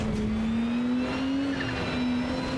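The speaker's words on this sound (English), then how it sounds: "that downshift noise is very cool." Engine note of a Ferrari in the racing game AC Evo, a steady droning tone that dips and rises slightly around a downshift, with a faint whine above, continuous and alone.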